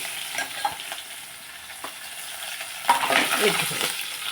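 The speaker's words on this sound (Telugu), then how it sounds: "ఎల్లిగడ్డ కరివేపాకు కూడా వేస్తాను అందులో" Garlic and curry leaves sizzle and crackle in hot oil for a tempering, with steady frying hiss and a few stirring clatters, close up and fairly loud.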